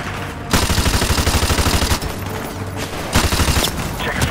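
Sustained, loud automatic gunfire from the Call of Duty: Modern Warfare Remastered video game, made of rapid overlapping bursts with brief lulls before the firing picks up again, dense and close throughout.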